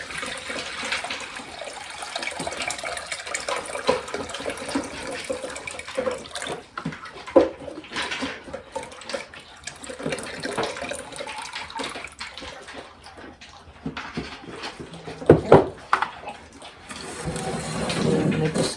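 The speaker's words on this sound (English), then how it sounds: "next step is we drain out this water" Water drains out of a pickling pot in a home kitchen, a running, splashing pour with gurgling bursts and uneven surges over nearly twenty seconds, moderately quiet with a few sharper clinks.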